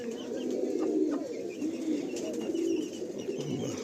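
Pigeons coo steadily in low, rolling murmurs, several birds overlapping close by with a soft background hum.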